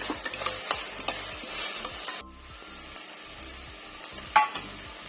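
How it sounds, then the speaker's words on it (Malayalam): Ginger, garlic, onion, green chilli and chopped potato sauté in hot oil, a close, soft sizzle broken by repeated scraping stirs of a spoon against the pan, with the frying easing somewhat partway through. "ഒരു ഉരുളക്കിഴങ്ങ് ചെറുതാക്കി കട്ട് ചെയ്ത് അതും കൂടെ എണ്ണയിൽ നിന്ന് വഴറ്റിയെടുക്കുകയാണ്"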